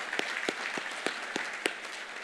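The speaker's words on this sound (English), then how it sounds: "Let's give him a round of applause as well." Audience applause at a forum keynote, heard as a short, steady wash of clapping with a few sharper individual claps standing out at a regular pace.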